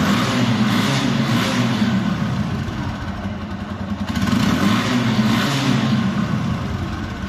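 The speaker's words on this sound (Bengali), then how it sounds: "গাড়ির কিন্তু ইঞ্জিন সাউন্ড দেখতেছেন একদমই কিন্তু ফ্রেশ আছে" A second-hand blue TVS Apache RTR 160 motorcycle idles close by, its single-cylinder engine putting out a steady, loud, even putter with a slight swell midway and no talking.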